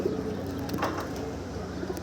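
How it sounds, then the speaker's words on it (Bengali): A young pigeon, a restless loft bird, gives low coos like an adult pigeon, close and fairly clear over a steady background hum. "যেভাবে ডাকতেছে পুরো অ্যাডাল্ট কবুতরের মতন"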